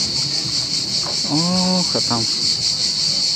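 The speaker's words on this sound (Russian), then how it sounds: "Как цикады орут." Cicadas on the southern coast of Crimea near Simeiz on a summer day, a loud, steady, high-pitched drone that runs unbroken throughout, with a person speaking briefly in the middle.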